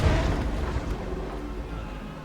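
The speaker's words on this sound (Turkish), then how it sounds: "Aha patladı. Gemi vallahi patladı." A ship explodes in Red Dead Redemption 2, a deep, rumbling boom slowly fading into a low roar.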